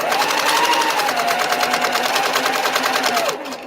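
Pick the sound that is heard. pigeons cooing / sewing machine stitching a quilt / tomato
sewing machine stitching a quilt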